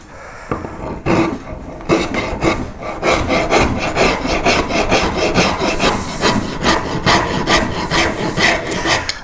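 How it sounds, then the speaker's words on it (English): Steady rhythmic rasping of a rasp file over wood while shaping a carved koi carp's tail, close and loud, repeated strokes with no talk. "I'm going to consolidate the surface again with my rasp"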